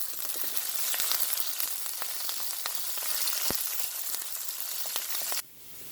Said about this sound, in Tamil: பெத்தல் மிளகாய் கருவேப்பமிளை எல்லாத்தையும் நல்லா தாளிப்போம்